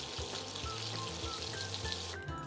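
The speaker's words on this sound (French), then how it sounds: "une poêle bien chaude avec un bon morceau de beurre, environ 2 minutes 30" Scallops sear in a very hot frying pan with a generous knob of foaming butter, a dense steady sizzle and spatter heard close and fairly quiet, with no voices.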